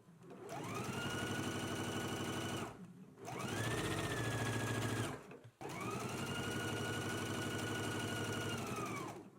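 A sewing machine stitches a hem on a simple top in three long continuous runs, its motor whirring loudly and evenly up close, separated by brief pauses.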